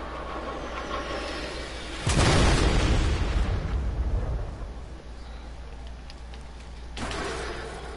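A missile explosion in Fortnite bursts loud and close, a broad booming blast that rumbles on for a couple of seconds before easing into lower background noise, with a smaller swell near the end.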